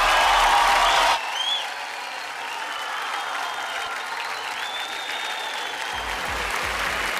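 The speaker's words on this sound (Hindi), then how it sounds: "जोरदार तालियां।" A loud burst of audience applause at an award show fills the first second, then drops to a softer, steadier clatter of clapping and crowd noise for the rest.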